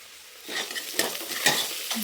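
Chopped onions frying in a pan for wheat pongal while a spoon stirs them, a soft sizzle under a few brief scraping strokes close by, no voices.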